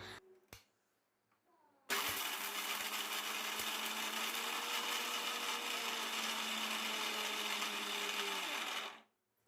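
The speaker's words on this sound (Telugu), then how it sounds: "సో ఇప్పుడు వచ్చేసి మనం నట్స్ అండ్ సీడ్స్ని మిక్సీ పట్టేద్దాము" Nuts and seeds grinding in a kitchen mixer grinder for an oats and nut ladoo, a loud steady whirring drone that kicks in abruptly after a few clicks, runs about seven seconds, then cuts off.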